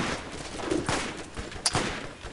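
Sniper rifle shots from the Borderlands video game, a few sharp cracks spaced irregularly over a busy, noisy game soundscape, with one brief high ping standing out near the end.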